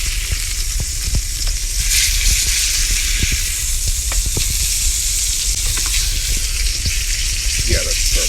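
A steak sizzles steadily in a hot pan just after being turned, a dense, loud crackling hiss with scattered pops and spits running throughout, no voices.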